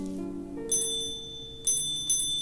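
Bells ring in the video game OneShot, with three bright chiming strikes spaced across a couple of seconds over a low, steady musical background.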